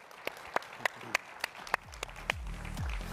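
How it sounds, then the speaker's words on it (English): Sparse applause at a conference plenary session, a handful of distinct sharp claps spaced out at first, then thinning as footsteps and low rumbling noise take over. "A big round of applause for all three of them."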